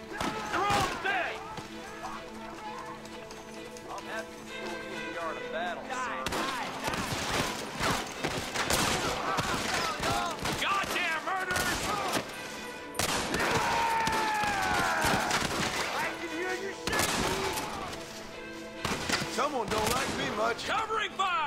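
Gunfire in the Red Dead Redemption video game crackles in dense, overlapping volleys of loud shots, with shouted voices and music layered throughout the battle.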